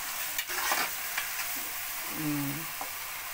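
Ginger, shallots, onion and coconut masala frying in oil in a pan, with a steady close sizzle and scraping stirs, alone without talk.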